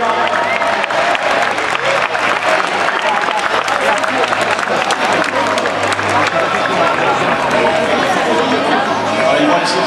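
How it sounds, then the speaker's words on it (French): Audience applause fills a martial arts night opening ceremony in Aulnay-sous-Bois, a dense, steady wash of clapping with crowd noise and voices over it for the whole stretch. "On va applaudir bien fort"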